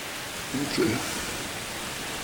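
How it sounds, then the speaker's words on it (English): Steady rain falling outdoors on a cold, windy day during deer season, a broad even hiss throughout with a brief low thump near the middle. "it would appear that we're beginning to get some of that much needed rain."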